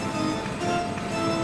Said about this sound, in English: now he's drilling and Garrett's not going to go back in while all that noise is happening